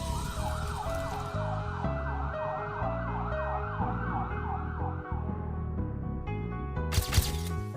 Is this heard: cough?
no